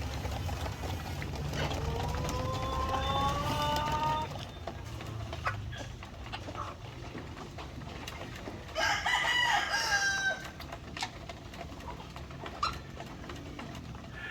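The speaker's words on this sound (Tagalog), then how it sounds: "nagpapakain tayo ngayon ng mga manok" Egg-laying chickens clucking and crowing nearby on a farm during feeding, with a long rooster crow early on and another burst of crowing midway over a busy barnyard murmur.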